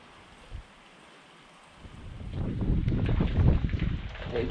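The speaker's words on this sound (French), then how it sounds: "Il y a du vent là-dedans." Wind blows inside an abandoned, fire-damaged building, starting as a quiet hiss and rising into loud gusty rushing and buffeting noise.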